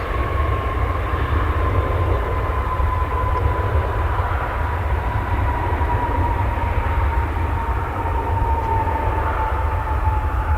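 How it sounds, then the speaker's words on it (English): A British Airways Boeing 787 Dreamliner at Dallas/Fort Worth airport gives off a loud, steady jet roar with a faint sustained whine, heavy low rumble and no talking. "It's a Dreamliner, British Airways flight."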